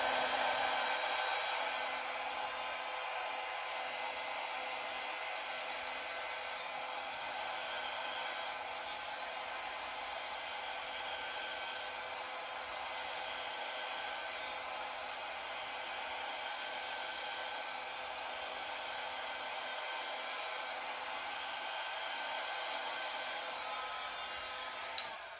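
A hair dryer on a cool, low setting blows across an acrylic pour of black paint mixed with Floetrol, giving a steady, close, unbroken whoosh that holds evenly for the whole stretch without any talking.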